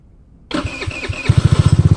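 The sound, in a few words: Tao Tao Racer motorcycle engine starting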